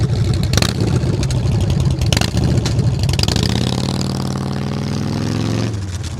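A cafe racer motorcycle engine revs loudly and steadily up close on a city ride through Savannah, its pitch rising and holding near the end before cutting off.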